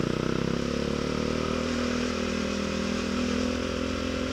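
A manual motorcycle with a clutch climbs uphill, its engine droning close and loud with a pulsing throb, pitch rising slightly as it revs through the climb.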